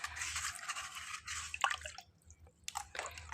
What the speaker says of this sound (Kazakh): Міне осылай су құямын.